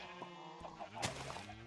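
A sheep bleats in a Minecraft-style blocky video game farm with pigs and cows: a single short, quiet, wavering baa with a couple of soft pulses, heard alone.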